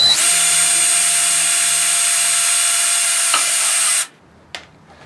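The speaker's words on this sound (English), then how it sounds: "I'm going to drill straight down." Power drill with a 1/16 inch bit boring straight down through a can, a loud steady high-pitched whine lasting about four seconds, then stopping abruptly, followed by a faint click.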